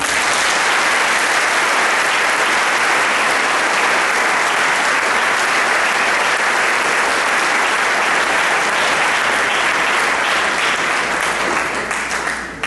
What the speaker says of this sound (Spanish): Los que están despiertos, denle un aplauso al Señor